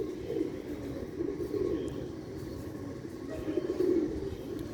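Sialkoti pigeons coo in low, repeated throaty bursts close by, two or three clear rounds over a steady background hum and no speech.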